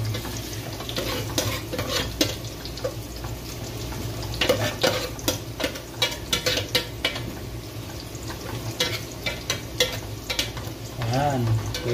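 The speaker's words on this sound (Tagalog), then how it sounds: "Tirisin natin yung bawang." Crushed garlic sautéing in a pan while cooking chicken tinola, a steady oily sizzle with scraping stirs and occasional clinks of a utensil against the pan, close and continuous, without talk.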